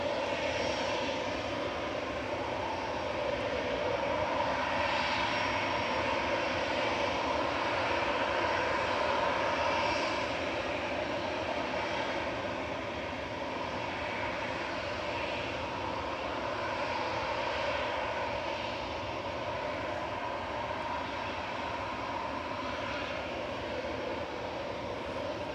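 A KLM airliner takes off at Manchester Airport, its engine roar steady and loud across the whole stretch, broad and sustained with a slight swell near the middle and no voices over it.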